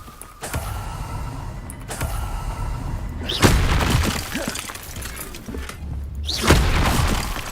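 Incendio fire spell cast in Hogwarts Legacy, a fantasy video game: repeated loud whooshing bursts of flame with crackling, shattering impacts, two big blasts standing out over steady game ambience.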